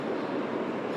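A train pulls into a new railway station with a loud, continuous roar and rumble of wheels on rail. The sound is close and holds steady through the short moment.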